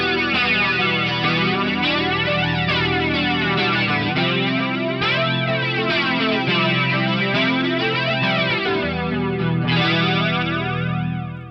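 Electric guitar played through an Electric Mistress chorus pedal, sustained chords with a lush, sweeping shimmer and slight grit, ringing continuously and loud throughout without any talk.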